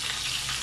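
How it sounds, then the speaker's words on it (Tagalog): Freshly caught fish frying in hot oil, a steady, dense sizzle that stays close and even, with no voices, for under a second. "nagpiprito pa tayo"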